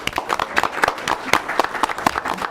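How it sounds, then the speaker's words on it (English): Applause from a seated audience at a school board of education meeting honoring an elementary school, steady clapping with sharp individual claps standing out, fairly close and lively throughout. "Let's give one more round of applause for Dullahan Elementary School"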